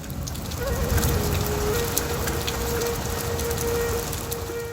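Steady rain patters and hisses continuously, with a faint tonal hum running beneath the wash of drops.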